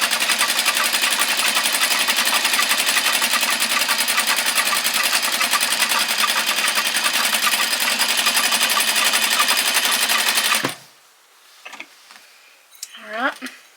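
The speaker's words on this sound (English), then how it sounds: "So I'm just going to sew that back down." A sewing machine stitching scrunchie fabric runs in a fast, steady, loud mechanical whir for about ten seconds, then stops abruptly, followed by a few faint handling clicks and brief talking.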